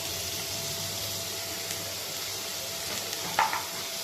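Roughly cut onions fry in a little oil in a pan with a soft, even sizzle and hiss, a faint steady tone underneath and a brief clink near the end, with no voices.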